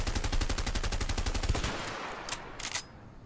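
A fast string of gunshots in the game A Way Out rattles for about a second and a half, followed by a few sharper, scattered cracks.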